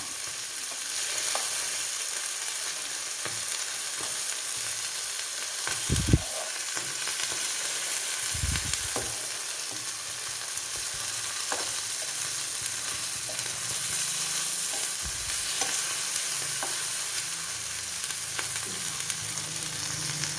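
Sardines fry in a pan with curry leaves in an Indian home kitchen, giving a steady, loud sizzle with occasional sharper spits and crackles as the pieces are turned, with no talking.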